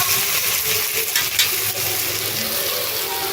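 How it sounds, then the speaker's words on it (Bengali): Soft continuous sizzling of kohlrabi, potato and tomato frying in a pan, with faint scraping and stirring clinks, no voices. "ওলকপি আলু টমেটো খুব সুন্দরভাবে ভাজা হয়ে গেছে"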